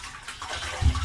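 Baking soda and water mixture sloshing inside a car fuel tank, brief liquid splashing that swells to a louder slosh near the end.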